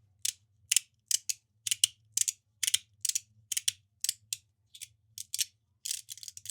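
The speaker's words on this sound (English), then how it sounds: "really crunchy magnetic sliders" Crisp, crunchy clicks from a magnetic slider fidget toy come in a quick, regular series of about a dozen snaps, close and fairly loud against near silence.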